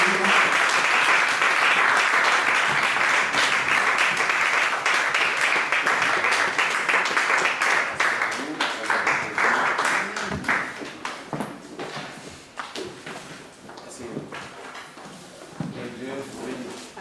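A church congregation applauds, loud sustained clapping from a large crowd close by that thins into scattered claps, with voices speaking and calling over it.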